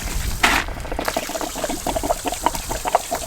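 Water draining from the valve of a 6-gallon RV water heater during winterization, a steady close trickling splash with small bubbling bursts, continuous over a few seconds, no one speaking.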